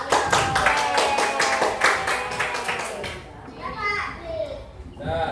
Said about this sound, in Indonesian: Silakan tepuk tangan dulu untuk teman yang sudah maju